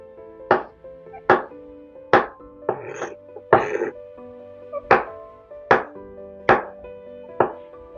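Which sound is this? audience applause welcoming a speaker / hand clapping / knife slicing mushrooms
knife slicing mushrooms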